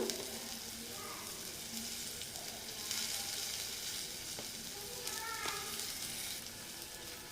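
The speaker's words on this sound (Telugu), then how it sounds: "సిమ్లో పెట్టుకొని వేపుకోండి, మాడిపోకుండా కన్సిస్టెన్సీ చూసుకోండి." Raw coriander seeds, cumin and peppercorns, with a pinch of turmeric added, fry on low heat for tomato rasam, giving a continuous gentle sizzle with occasional stirring scrapes and a faint voice in the background.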